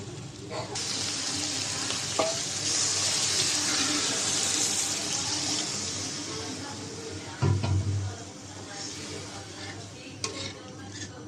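Water pours into a pan of frying masala and potatoes, creating a loud, rushing splash and hiss that gradually fades, followed by a few stirring clanks and knocks.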